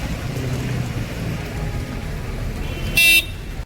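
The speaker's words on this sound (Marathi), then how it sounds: "खूप पाऊस पडत आहे" Steady monsoon rain hissing amid passing traffic rumble at a bus stand near Mahabaleshwar, with a brief loud car horn blast near the end.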